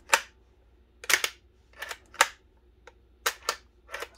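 Bolt action of a Steyr Scout RFR .22 rifle being worked by hand, producing a series of sharp, close metallic clicks and clacks, some in quick pairs, against a quiet background.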